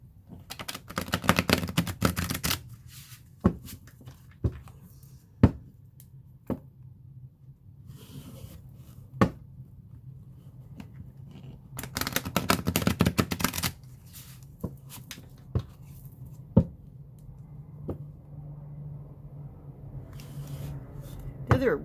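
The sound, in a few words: shuffling a tarot card deck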